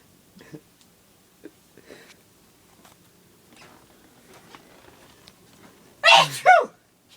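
After several seconds of faint rustling and small handling noises, one sharp, loud sneeze breaks out close by near the end.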